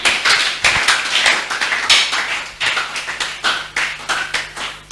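A church congregation clapping their hands in acclaim of the Lord, a lively run of loud, uneven bursts of applause with rhythmic peaks, close and alone without talk.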